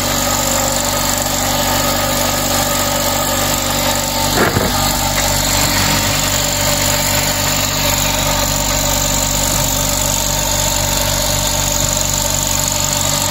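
A Mader Power Tools 100 litre air compressor runs with a loud, steady mechanical hum and vibration throughout, broken by one brief knock early on.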